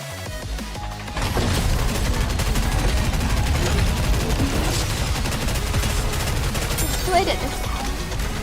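Dense automatic gunfire in the NIKKE shooter game: rapid, continuous bursts of shots start abruptly after a second and keep going loud and steady, with a few sharper impacts and a voice speaking over them.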